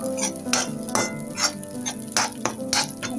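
Semolina (rava) dry-roasting in a pan toward golden colour for coconut rava laddoos, stirred continuously, giving repeated scraping strokes roughly every half second over a soft sizzle, close and fairly loud with no talking.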